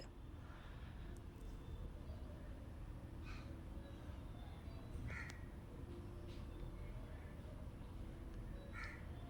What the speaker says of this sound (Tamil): பேக்ரவுண்டில் ஒரு காக்கா கத்துது